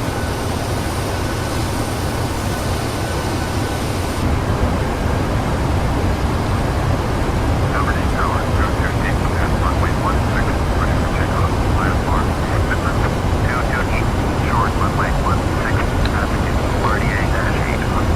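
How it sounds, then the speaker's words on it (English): Simulated jet airliner engine roar as an aircraft flies by on takeoff in a flight simulator game, a steady loud broadband rush filling the whole stretch, with a person talking over it. "So there's a flyby on takeoff."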